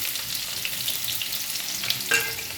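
Shallots and dried red chillies frying in hot oil for a kappa and beef dish, a dense, even crackling sizzle heard close and alone, with a brief spatter near the end.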